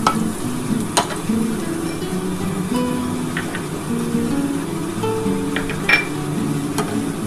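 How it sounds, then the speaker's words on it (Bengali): Garlic frying in a pan, a soft continuous sizzle under stirring, with occasional sharp clinks of a utensil against the pan. "রসুনটা অল্প একটু ভাজা ভাজা হলে আমি তারপর পেঁয়াজটা দেবো।"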